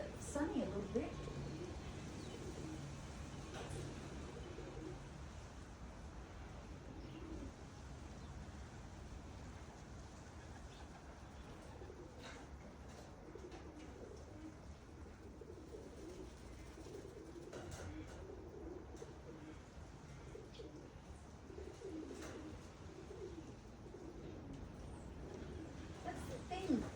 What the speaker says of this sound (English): Oh, there's a little pigeon there.